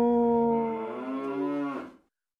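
A child imitates a cow, holding one long, loud, sustained moo close to the microphone that dips in pitch and then cuts off sharply, with silence after.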